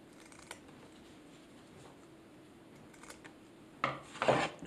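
Scissors snip and trim fabric hand pieces for a traditional rag doll, a few quiet cuts and then a louder burst of cloth rustling and clipping near the end, close and without talk.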